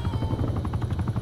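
A helicopter in the video game Call of Duty: Black Ops Cold War thumps with steady, rapid rotor beats, a close and continuous chopping drone with no voices.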